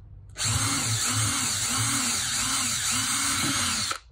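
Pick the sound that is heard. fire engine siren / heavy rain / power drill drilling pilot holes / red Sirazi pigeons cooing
power drill drilling pilot holes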